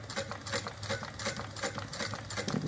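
A sewing machine runs steadily while stitching curves on a fabric bag, its rapid needle chatter continuous and fairly quiet with slight rhythmic variation.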